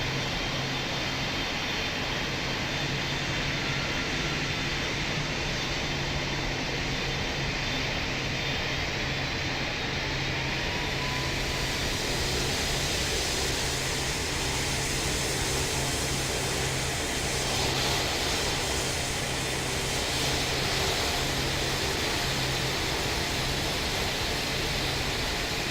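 An airliner rolling for takeoff in the Pilot Training Flight Simulator game, a steady loud jet engine roar with broadband rush that shifts slightly in tone midway and holds constant throughout, with no speech.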